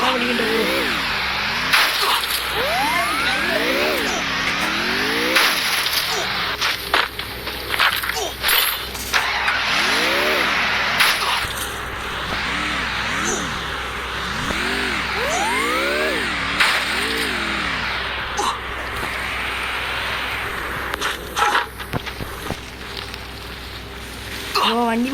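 A video-game vehicle engine revs in repeated rising and falling surges, as if the wheels spin while stuck, loud and close with a voice talking over parts of it.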